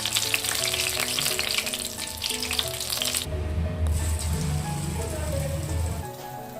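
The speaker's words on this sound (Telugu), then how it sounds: "అన్నీ కూడా డీప్ ఫ్రై చేసుకోవాలి." Mirchi bajji chillies dipped in batter deep frying in hot oil, a steady crackling sizzle up close that dips briefly and then returns with a low bubbling underneath.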